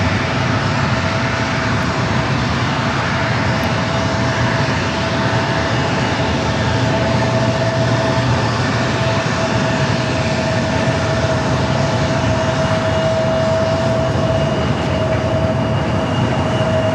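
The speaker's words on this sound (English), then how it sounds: "A350-900 coming up from Munich." A Lufthansa Airbus A350-900 arrives from Munich at San Diego airport. Its jet engines give a loud, steady roar that stays constant throughout.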